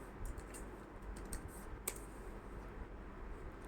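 Quiet typing on a computer keyboard as an email and password are entered, a run of soft irregular key clicks with one sharper tap partway through, close and alone.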